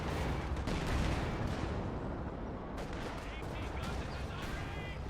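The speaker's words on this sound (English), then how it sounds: "There's the Zis gun." Gunfire and artillery booms from a ZiS anti-tank gun and other weapons in Company of Heroes 2 crack and rumble through a noisy battle scene, with repeated shots and explosions layered under ongoing battle noise.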